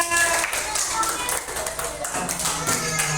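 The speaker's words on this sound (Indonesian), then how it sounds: "Oke, tepuk tangan semuanya." A group claps hands together in a school setting, producing steady, loud, rhythmic claps that fill the whole moment, with voices mixed in underneath.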